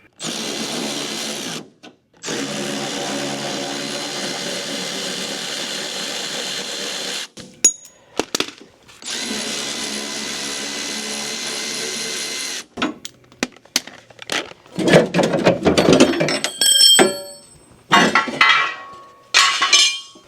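Bolts being removed from a van's wheelchair lift: long steady bursts of mechanical whirring, close and loud, broken by sharp metallic clinks and knocks as parts shift, with no talking.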